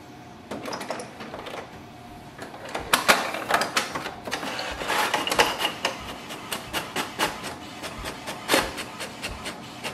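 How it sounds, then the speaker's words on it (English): An HP Smart Tank 7602 printer runs a test page, a quiet hum that breaks into a quick series of sharp mechanical clicks and clacks as the print head shuttles back and forth. Nobody speaks. "Now let's do a test print."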